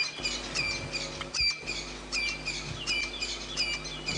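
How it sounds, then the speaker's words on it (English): Francolins calling in the dawn chorus on a morning safari drive in the Karula area, repeated loud harsh chirping calls in rhythmic bursts, fairly close, over quiet background with no talking. "the Franklins going bananas. That's the dawn chorus."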